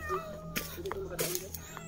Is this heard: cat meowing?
yes